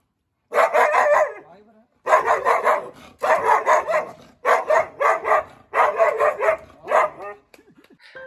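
A pet dog named Tinku barks in a run of loud bursts close by, with short gaps between each burst and a few fainter yips at the end.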